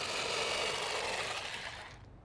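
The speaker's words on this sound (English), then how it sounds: "This is a jigsaw." A power jigsaw cuts an oval into a pumpkin at a pumpkin carving festival, a steady close buzzing rasp that holds for about two seconds, then cuts off.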